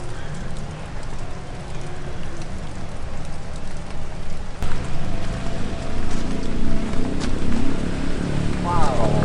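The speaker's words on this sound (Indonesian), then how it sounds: "hujan." Rain falls steadily around a tropical ornamental plant collection in Indonesia, a dense patter that grows heavier toward the end, heard without talk.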